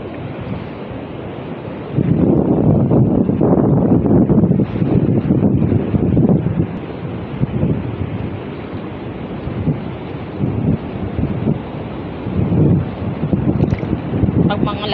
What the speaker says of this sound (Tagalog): Ayan, alon.